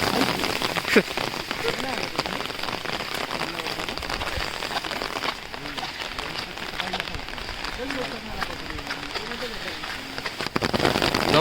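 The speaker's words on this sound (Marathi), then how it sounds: "जबरदस्त पाऊस पडतो जबरदस्त" Heavy monsoon rain in Konkan pours steadily, drumming hard on a nearby surface with constant dense patter, while voices talk underneath it.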